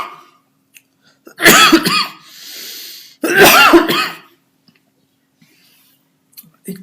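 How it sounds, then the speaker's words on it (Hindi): Two loud, harsh coughs from a man, each a burst of rough bursts about two seconds apart, with a faint breathy exhale between them and near silence after. "एक तो खांसी ने डिस्टर्ब किया हुआ है।"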